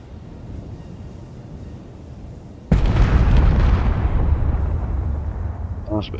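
A rocket missile explodes in Space Engineers with a sudden loud boom. A long rumbling roar follows, fading slowly over wind-like noise, with a faint voice near the end.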